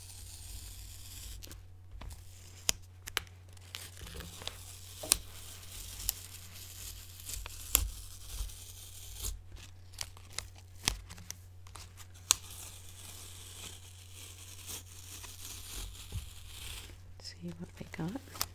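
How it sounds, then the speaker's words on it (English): Painter's tape peeled slowly off a small painted object, giving a run of crackling, tearing bursts and crinkles with sharp little snaps, close up over a steady low hum. "Carefully. Peel the tape off."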